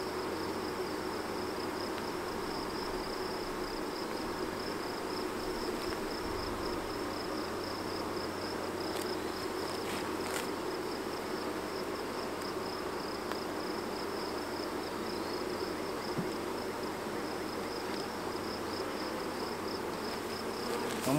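Honey bees being moved out of a swarm trap, a soft continuous buzzing hum with a steady drone throughout, close by and fairly quiet, with a few faint knocks and no talk.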